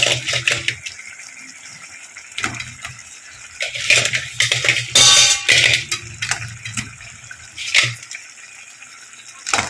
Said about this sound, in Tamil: இந்த டைமில் நம்ம இந்த வாஷ் பண்ணி வச்சுருக்க நண்டு வந்துட்டு சேர்த்துக்கலாம்